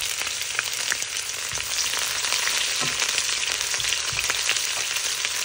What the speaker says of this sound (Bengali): এখন এই মরিচ ভাজা তেলে প্রথমে আমি একটু পেঁয়াজ কুচি দিয়ে দিচ্ছি।